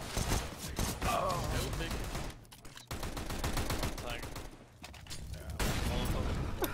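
Video game gunfire from an auto sniper rifle in an FPL match plays as a steady run of rapid, sharp shots, heard under almost continuous player chatter.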